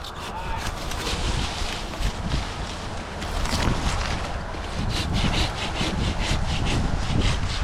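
A hand saw cuts oak tree branches up in a tree near power lines, with steady repeated back-and-forth strokes up close and wind in the background.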